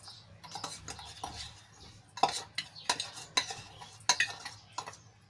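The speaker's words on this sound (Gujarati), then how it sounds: "અને કેરીમાં સરસ રીતે મિક્સ કરી લઈશું, જેથી કરીને મસાલો બધો સારી રીતે કેરીમાં ભળી જાય" Spice masala stirred into cut raw mango pieces in a bowl for pickle, with close, irregular clinks and scrapes of a spoon against the dish and moist mixing sounds, no voices.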